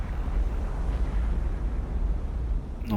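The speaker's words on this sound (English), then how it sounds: "So the aft rear magazine has suffered an explosion." In the War on the Sea naval game, a ship's aft magazine explosion sounds as a dense, sustained low rumble, loud and steady throughout, with no voices.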